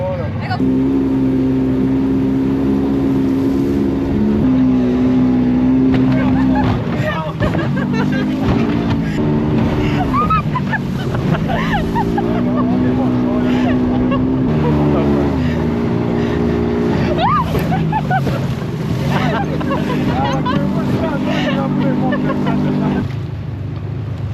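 Steady low engine drone of a boat running near the Mostar bridge throughout, loud and continuous, with people talking over it.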